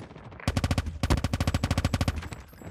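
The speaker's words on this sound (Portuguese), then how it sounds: "Olha o barulho do tiro dela." A legendary Cordite gun fires in a video game: one loud, tightly spaced automatic burst of rapid, evenly rhythmic shots, with short breaks between strings of rounds and no talking.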